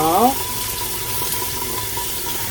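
Perilla leaves are washed by hand in a basin under running water, a steady close wash and trickle with a brief harmonic squeak at the very start.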